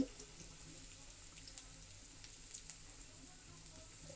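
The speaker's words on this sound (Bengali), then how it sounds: "পেঁয়াজটা আমি বাদামি কালার করে ভেজে নেব" Chopped onions fry in oil in a wok, giving a faint, even hiss with scattered small pops and ticks, heard alone without speech.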